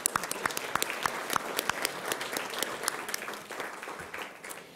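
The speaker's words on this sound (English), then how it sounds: "if you could stand so we could give you a quick round of applause" At a school governing board meeting, attendees give a quick round of applause, sparse, distinct hand claps, moderately quiet, thinning gradually over a few seconds.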